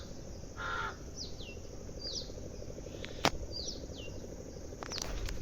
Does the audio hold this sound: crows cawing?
yes